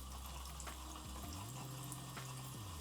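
Tap water runs steadily into a bathroom sink while hands are wetted under the stream, a continuous close splashing rush with faint drips, no talking.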